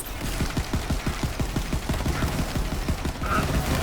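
Sawbar rifle fire in Borderlands 3 cracks out in a steady rhythm of rapid shots, about five per second, loud and close over a constant background of game noise.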